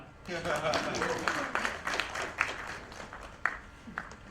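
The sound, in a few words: audience clapping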